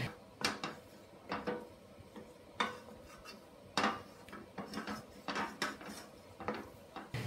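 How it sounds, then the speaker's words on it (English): A heat-resistant silicone spatula scrapes a spiced onion mixture out of a pan into a saucepan of red lentils, producing repeated soft scraping and light knocks against the pan at an irregular rhythm, fairly quiet and close. "Use a heat-resistant silicone spatula to scrape this mixture into the saucepan with the lentils"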